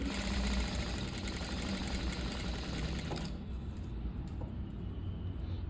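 A sewing machine stitches a buff sleeve with a rapid, steady mechanical whir close by for about three seconds. It then slows into a softer running hum.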